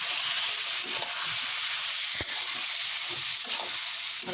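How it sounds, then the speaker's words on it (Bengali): Egg and soya chunk curry being stirred in a pan, a steady close sizzle and hiss of frying with faint scraping of the spoon and a few soft knocks. "হালকা নেড়ে চেড়ে দিচ্ছি"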